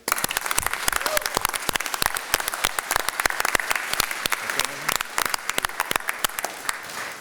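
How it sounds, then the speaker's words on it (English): A crowd at CCA Louisiana Day at the state legislature in April 2022 applauds a group. The many sharp, distinct hand claps stay close and lively and hold steady throughout. "we would just like to give these guys a big round of applause for all what they do"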